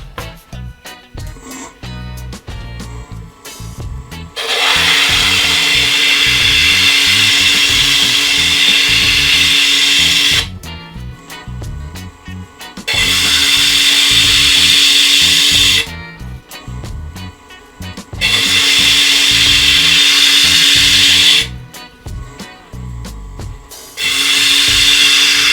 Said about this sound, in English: I'm going to flatten the back of the disc on the disc sander.